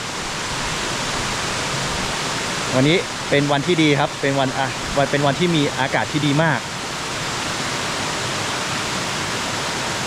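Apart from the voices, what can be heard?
waterfall flowing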